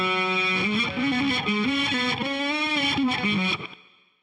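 Distorted electric guitar phrase reversed through a looping device, notes swelling in and cutting off abruptly in a continuous smeared line, loud and alone before a quick fade at the end.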